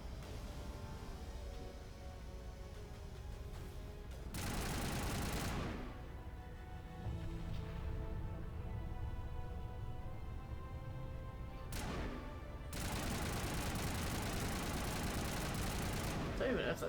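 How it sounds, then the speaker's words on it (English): Gunfire in the sci-fi shooter Mass Effect during an intense final mission, two long dense bursts of rapid shots over a constant background of game music and ambience, loud and close. "Just shooting stuff for a little bit."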